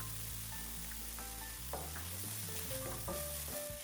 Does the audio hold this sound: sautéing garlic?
yes